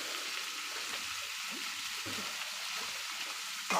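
Brinjal and raw mango sautéing in a pan, a steady close hiss of frying with soft stirring scrapes underneath and a slightly louder burst at the very end.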